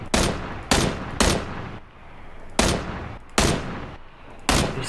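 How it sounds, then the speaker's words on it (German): Loud, close bursts of gunfire from another player in PUBG sound in several sharp volleys separated by short pauses, each crack followed by a brief ringing tail, with no talk. "ich werde beschossen von seinem Mate"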